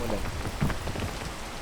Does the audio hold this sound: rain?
yes